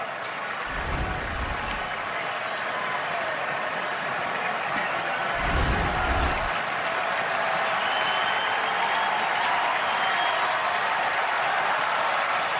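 A crowd of over 40,000 roars steadily at Wrigley Field during a Yankees–Cubs baseball game, most fans standing, with a sustained wash of cheering and a couple of dull low thumps.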